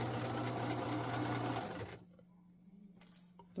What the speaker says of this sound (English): Don't sew over the pins.